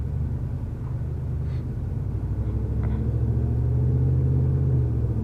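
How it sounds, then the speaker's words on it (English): A steady, loud rumble of an old truck engine while driving, a constant low drone with slight rises in pitch and no talking. "I am driving my old truck."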